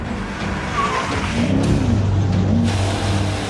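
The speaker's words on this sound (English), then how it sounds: "We have commenced drifting." A BMW M5 drifts during a record attempt, its engine droning steadily with a tire-skid whine rising and falling, heard from a moderate distance with no talking.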